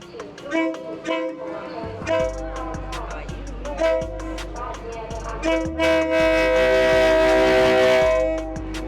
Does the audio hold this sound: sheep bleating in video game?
no